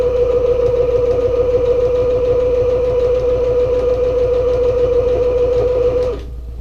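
A sewing machine stitches the long edge of a travel bag's fabric panels, a loud, even motor whir with a fast mechanical patter that holds steady for about six seconds, then stops.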